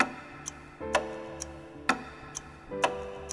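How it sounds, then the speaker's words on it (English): A clock ticks steadily in a music production, with sharp clicks landing about once a second over a low sustained tonal bed and faint softer ticks in between. "like the clock ticking"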